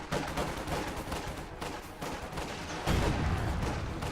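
A single bazooka shot from enemy riflemen during a real-time strategy battle, heard within a steady backdrop of distant gunfire and explosions that swells louder near the end.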